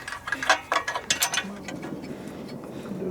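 A ratchet clicks rapidly in short bursts while removing bolts from an old turbo on a Suburban, close and sharp, then fades into low shuffling work noise.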